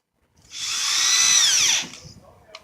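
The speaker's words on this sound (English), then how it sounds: "Installing our 6 screws." A power drill drives a screw into a wooden fence board in one sustained burst of about a second and a half, its whine sliding down in pitch as the screw seats, then a faint click.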